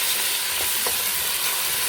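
Ginger garlic paste frying in hot oil for an Andhra-style mutton green biryani, a steady close sizzle with faint stirring scrapes and no talk.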